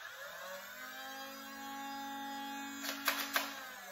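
A battery-powered Nerf Phoenix blaster, a Stryfe reskin running on four AA batteries, spins up its flywheels into a steady, close electric whine that holds for several seconds, then a few quick clicks and rattles near the end, no talking.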